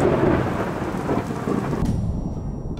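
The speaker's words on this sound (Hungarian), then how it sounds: "persze, hogy ekkor robban ide ez a fostos orkán" Thunderstorm with heavy rain, a loud rolling rumble of thunder over dense, steady rainfall on surfaces, close and continuous, with no talk.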